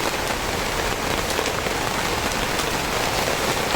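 Heavy rain pouring down on a farm field, a dense, constant roar of drops drumming on surfaces with no pauses and no voices.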